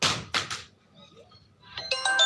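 A phone ringtone for an incoming call plays near the end as a bright, steady electronic melody of repeated tones, following a few short knocks and a quiet gap during a live folk-song stream.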